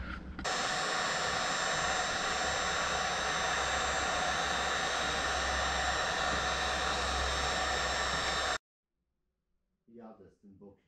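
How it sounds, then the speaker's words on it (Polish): A heat gun used in motorcycle modification work blows a loud, steady, rushing roar of hot air for about eight seconds, then cuts off abruptly, followed by a brief burst of talk. "Opalarka. Gdzie jest opalarka? Opalarkę mam."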